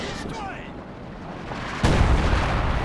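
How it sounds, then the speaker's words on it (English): A rifle grenade fired at a machine gun position in Company of Heroes 2, a heavy boom landing partway through over rumbling battlefield noise, with distant gunfire beforehand. "I have the rifle grenade shooting at the MG"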